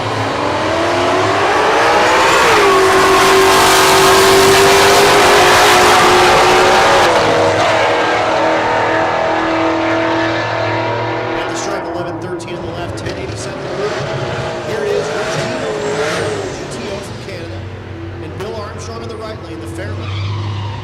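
Drag race cars make a pass down the strip at Texas Motorplex in Ennis, Texas. A loud roaring launch and high-revving engine build and then fade into a distant rumble with tire noise as the car pulls away.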